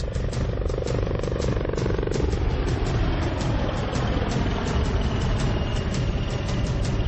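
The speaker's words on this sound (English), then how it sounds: "The advanced light helicopter, named Dhruv, is an indigenous helicopter developed and produced by Hindustan Aeronautics." Engine of a HAL Dhruv Advanced Light Helicopter, built by Hindustan Aeronautics, runs as a steady, loud mechanical drone with a fast regular chop throughout, close by and with no voices.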